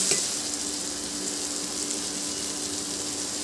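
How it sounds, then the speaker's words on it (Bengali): Onion and tomato fry in a pan, giving a continuous even hiss of sizzling oil with a soft stir near the start, close and steady without speech. "পেঁয়াজ আর টমেটোটাকে ভালো করে আমি ভেজে নিয়েছি।"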